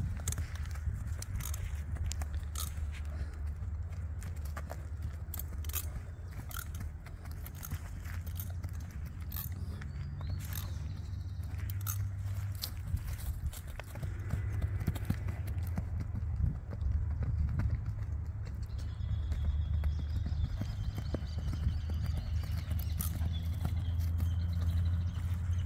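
A gentle criollo horse walks toward a pasture, hooves clip-clopping in a steady, unhurried rhythm at close range, with creaking tack and low background rustle throughout.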